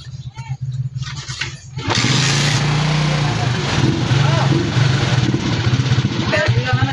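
Skygo 125 motorcycle engine running with a misfire, a close, steady uneven drone that starts a couple of seconds in and continues under someone talking.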